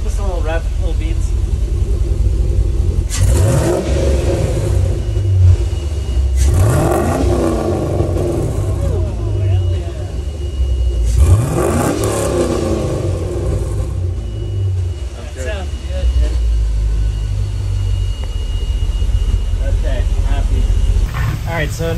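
A 4.8 LS-swapped 1974 Corvette, freshly warmed up, blips its engine three times, each rev rising and falling over a deep, loud, continuous rumbling idle.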